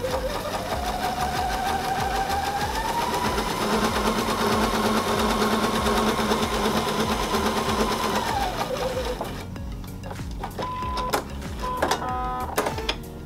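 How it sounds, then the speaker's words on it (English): A sewing machine stitches a long seam on a quilt block with a steady, close, rapid mechanical chatter and a rising motor whine, then slows and stops, followed by a few short clicks and brief whirs. "So I'm just gonna do 4 long seams."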